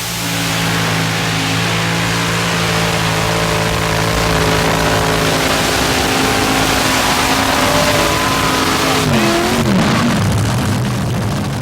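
A modified pulling tractor with an alcohol-burning aluminum big block Chevy engine roars at a 1987 tractor pull in Fort Wayne, Indiana, a loud sustained engine drone whose pitch shifts and wavers near the end.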